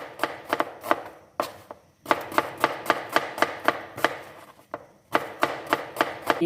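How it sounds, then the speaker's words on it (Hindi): Sharp, rapid knife chops on a cutting board as onions are sliced for chicken handi, coming in quick rhythmic bursts with brief pauses, close and clear. "प्याज को हम काट लेते हैं"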